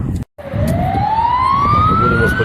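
An ambulance siren wails steadily and loudly on a street in Saltivka, Kharkiv, its pitch climbing slowly as it passes over low traffic rumble on a snowy evening.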